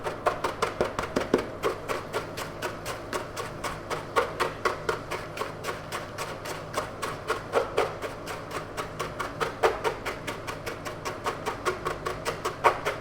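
Biscuits crushed by hand with a rolling pin, a fast steady run of dry crunching, tapping strikes close by, with no talking.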